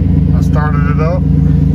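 Chevrolet/GMC truck engine idling steadily just after a throttle position sensor replacement, a low even rumble close by, with a person talking briefly over it.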